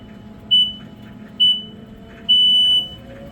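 Beeping from an order picker's wire guidance system: a loud, clear electronic tone sounds twice in quick short bursts, then once more as a longer sustained beep, over a low background hum.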